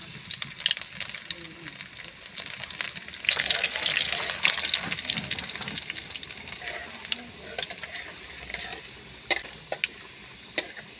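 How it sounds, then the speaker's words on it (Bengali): Garlic frying in oil with a tempering of garam masala and kala jeera for a jute-leaf and masoor dal dish, a crackling sizzle that swells midway, peppered with sharp stirring taps and spatula clicks. "রসুনটা লাল লাল করে ভাজা হয়ে গেছে"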